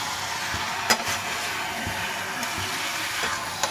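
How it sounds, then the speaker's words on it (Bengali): Vegetables frying in a pan on a home stove give a steady, hissing sizzle throughout, with a few sharp clinks of a spatula or utensil standing out now and then. "এভাবে ভাজবি, এটা একটু ভাজি, তারপর 2 মিনিটের মতো ভাজতে হবে"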